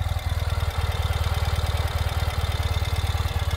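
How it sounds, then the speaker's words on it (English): A 2019 Ural Gear Up sidecar motorcycle idles steadily, its engine thumping in an even low pulsing rhythm, close and alone without talk. "Fires right up. Already idling quite happily"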